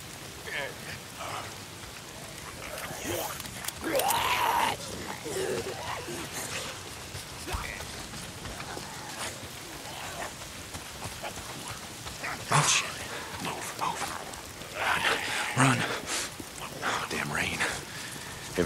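Steady rain pours and patters on surfaces in the video game Days Gone, a constant wash close around the listener, with a voice occasionally murmuring over it.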